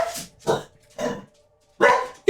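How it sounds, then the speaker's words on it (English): A dog barks inside a video game set at a hotel with a locked gate, four loud separate barks spaced by short silences, close and clear, with no speech over them. "Oh, dog's barking."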